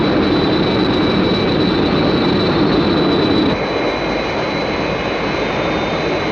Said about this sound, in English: I want you to make a dummy attack on Captain Scarlet's aircraft